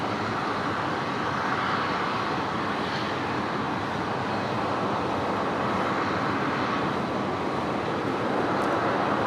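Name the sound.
Alliance Fokker 100 jet beginning its takeoff roll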